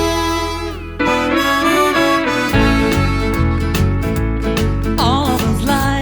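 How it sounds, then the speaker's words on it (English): A harmonica plays a song on an A chromatic harmonica over a loud, dense instrumental backing track with strong rhythmic bass. The melody sustains bright, held notes throughout. "So what I did then was I started playing it on an A chromatic harmonica."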